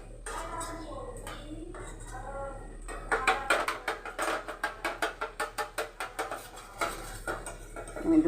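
Rapid clinking of a utensil whisking two spoonfuls of yogurt in a bowl while cooking potol alur dalna, a steady run of about a dozen sharp taps midway, with a voice speaking earlier.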